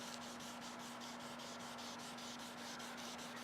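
Wet sanding over scratches on a black BMW's paint, a soft, rhythmic rubbing in even back-and-forth strokes, faint and close, with a steady low hum underneath.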